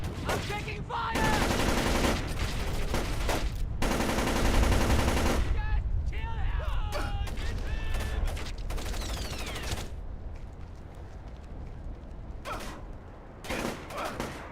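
Gunfire in the stealth game Splinter Cell: Chaos Theory, dense bursts of automatic shots and sustained fusillades, loud and close, fading to scattered shots with mechanical clatter near the end.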